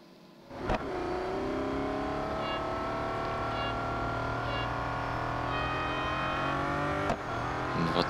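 A Bugatti La Voiture Noire in the Real Racing mobile game accelerates hard, its engine note climbing steadily through the gears as a loud, continuous roar with rising harmonics, briefly interrupted by a shift near the end.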